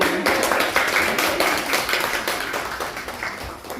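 A small audience applauds at a Young Female Leaders event at TSU, giving a steady patter of claps that slowly fades over a few seconds.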